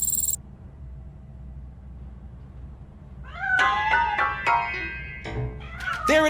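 A cat in the Robocop video game, hiding inside a piano, lets out a series of distinct meows in quick succession after a stretch of near silence, growing louder and more insistent toward the end.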